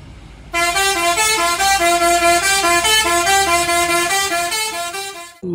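A bus sounds a loud, continuous musical horn with a repeating stepped melody for about five seconds, close by and alone, over a low engine rumble.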